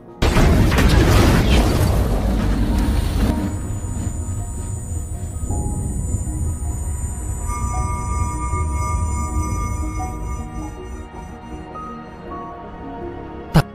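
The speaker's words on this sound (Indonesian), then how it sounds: "Akibat ledakan itu, Oscar pun tewas" Film explosion opening with a loud, broad blast that rolls into a long rumbling decay with debris noise, then thins into lingering tonal ringing and ends on a sharp final hit.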